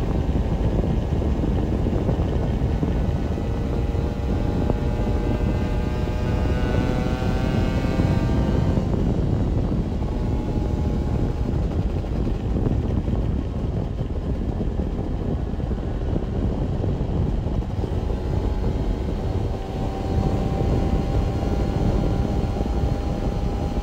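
Honda NS-1 75cc two-stroke motorcycle accelerating on an open road, its high buzzing engine note climbing in pitch then dropping and rising again through gear changes, under steady heavy wind roar.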